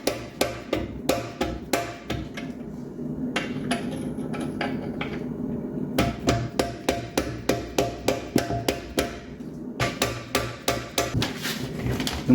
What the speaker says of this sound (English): Gently drive our pin out.